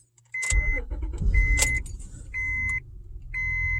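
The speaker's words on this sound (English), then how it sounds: "we're going to put the key in the ignition and turn it on" A car ignition key turns and the engine cranks and catches, with chiming warning tones, a jangle of keys and the steady low rumble of the idling motor close by.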